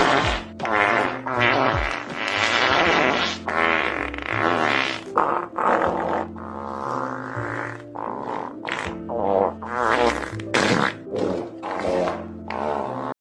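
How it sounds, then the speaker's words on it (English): A farting sound effect plays loud and close as a long run of repeated buzzy, sputtering blasts, some drawn out and others short, broken by brief gaps, with no talking over it. "This is how the farting sound effect sounds like."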